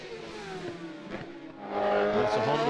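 A Honda racing motorcycle at the Macau Motorcycle Grand Prix qualifying sounds as a high revving engine howl that surges and drops, then swells louder as the bike passes close.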